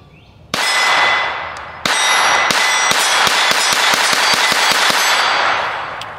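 A Taurus TX22 Compact .22 pistol fires at the range, a sharp opening shot followed by a rapid string of about a dozen crisp cracks with ringing metallic clangs of steel targets, loud and close.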